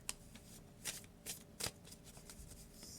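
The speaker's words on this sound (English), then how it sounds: "So you can shuffle like this." Oversized Cosmic tarot cards being shuffled by hand, with soft papery riffles and several sharper flicks near 0.1, 0.9, 1.3 and 1.65 seconds, close and fairly quiet with no talking.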